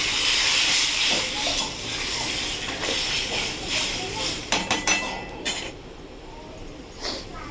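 Water poured into a hot pan of fish curry hisses and steams loudly at first, then fades into softer bubbling with a few clinks of utensils.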